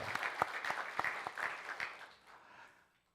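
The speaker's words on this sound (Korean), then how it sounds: "우리 찬양대 한번 우리 축복하는 박수로 한번 격려하겠습니다" A church congregation claps in applause for the choir during a worship service, a steady burst of clapping that fades out over a few seconds.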